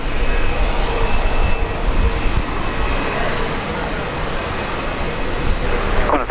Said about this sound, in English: Qantas 1844, cleared for takeoff